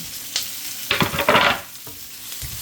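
Chopped tomato is stirred and sautéed in a pan for mung beans with spinach, with a steady close sizzle and bursts of scraping, stirring strokes.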